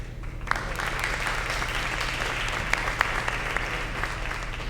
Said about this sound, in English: Can we give our student MCs a big round of applause?